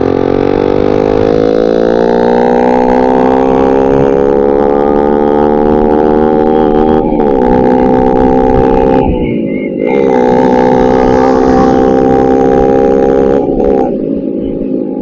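A ZX motorcycle on a Sunday ride, engine holding a steady high-revving drone at speed with brief dips in pitch as the throttle shifts, loud and close, with wind noise and no talk.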